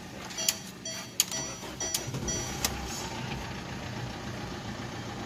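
A Ford Figo diesel with 93,000 km on it idles roughly while misfiring, giving a close, uneven ticking clatter with irregular sharp knocks over a steady engine drone.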